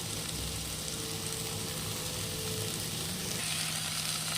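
Vegetables with chopped garlic and onion fry in a pan for a vegetarian cheese pasta, giving a continuous dense sizzle at moderate level with faint stirring beneath and no voices.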